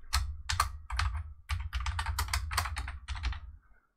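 Keyboard typing at a computer while entering a Wi-Fi router name and password for a BTT Manta M4P CB1 board setup: a steady run of close, crisp keystrokes for about three and a half seconds, then quiet, with no talking.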